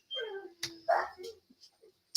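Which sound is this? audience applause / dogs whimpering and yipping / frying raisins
dogs whimpering and yipping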